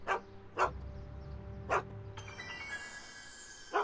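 The dog Einstein barking in the Back to the Future video game, with four sharp, close barks spaced over a low hum and a rising tonal game sound partway through.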